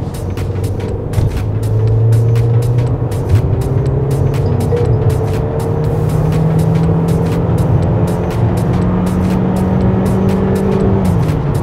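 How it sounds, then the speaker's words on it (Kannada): A Mercedes-Benz GLA in sport drive mode accelerates hard, its engine note climbing steadily through a gear change, loud and continuous from inside the cabin with no one speaking. "ಇವಾಗ ಒಂದು ಆಕ್ಸಲರೇಷನ್ನ ಜಲಕ್ ಕೊಡ್ತೀನಿ ನಿಮಗೆ"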